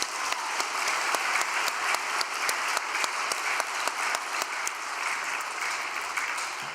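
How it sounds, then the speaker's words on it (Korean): An audience gives a round of applause at a religious gathering. Many hands clap together in a sustained, even burst, with sharp individual claps standing out here and there and no talk over it. "박수 한번 올려드립시다"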